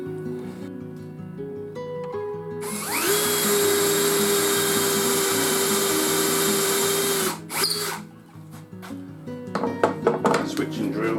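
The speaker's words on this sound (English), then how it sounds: "bring the drill up, holding it all in line," Power drill boring a hole up into the arm of a handmade wooden stick chair whines steadily for about five seconds, loud and close, then stops, followed by handling clatter and a voice.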